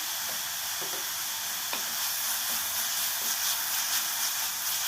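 Ginger garlic paste and curry leaves frying in a pan for a Tamil pakoda kurma, a steady broadband sizzle that stays loud throughout, with a few faint soft taps of a spoon against the pan.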